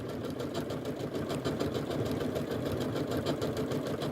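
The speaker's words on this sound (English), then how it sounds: "I'm just going to start stitching, and I'm keeping the edge of my foot on the edge of the fabric here" A Janome sewing machine stitches fabric bunting with a steady, close, rapid mechanical whirr and needle chatter that runs evenly throughout with no pauses or talk.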